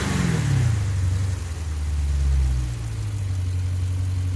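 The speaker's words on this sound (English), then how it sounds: "You see the engine right here, that's the big boy engine." Dodge Challenger Scat Pack with its 392 6.4-liter engine, a deep rumbling idle broken by two short throttle blips that swell and settle back, close and fairly loud with no talking.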